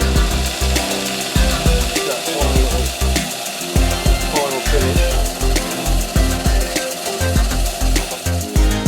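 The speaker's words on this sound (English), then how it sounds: "I'm just going to sand it inside and out" An old conifer wood bowl being sanded inside and out on a woodturning lathe, a rhythmic scraping rub pulsing roughly twice per second over a low running hum, close and fairly loud.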